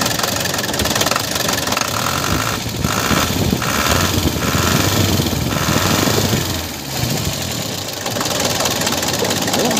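An Isuzu 4BC2 diesel engine idles low after a tune-up, a loud, steady knocking rumble with a rhythmic clatter running throughout.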